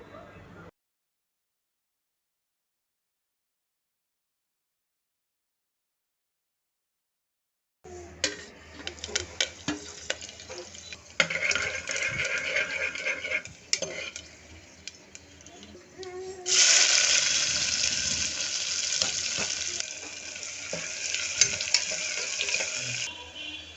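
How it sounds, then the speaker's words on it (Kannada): Onions and spices fry in a pan for menthi rice. After a long silent stretch, a steady sizzle rises with intermittent stirring clatter, growing louder and denser toward the end. "ಗೋಲ್ಡನ್ ಬ್ರೌನ್ ಆಗೋ ತನಕ ಚೆನ್ನಾಗಿ ಫ್ರೈ ಮಾಡ್ಕೊಳ್ಳಿ"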